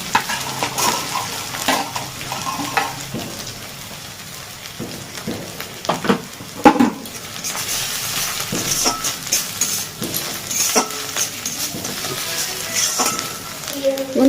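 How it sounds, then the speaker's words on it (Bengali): Chopped onions sizzling in oil with crushed garlic, ginger and green chilli, a continuous close frying hiss broken by spatula scrapes and occasional clinks against the pan. "আদা রসুন আর কাঁচা লঙ্কা ওটা এবার দিয়ে দিচ্ছি কুচনো পেঁয়াজগুলো"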